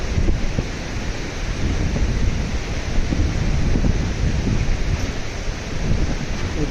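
The flooded Beas river rushes past in a dense, steady roar of churning water with a low rumble underneath, loud and unbroken throughout.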